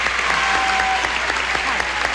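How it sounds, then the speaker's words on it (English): A 1977 Match Game studio audience applauds a new contestant, loud, dense and sustained clapping filling the whole stretch. "What do you say we all briskly applaud our new contestant here, Susie Mallet."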